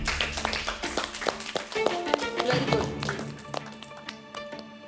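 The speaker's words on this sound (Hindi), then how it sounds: "जोरदार तालियां हो" Studio audience applause on a reality game show, a dense stretch of many hands clapping at close range with scattered sharp claps and crowd noise. It runs steadily for about five seconds, with voices mixed in underneath.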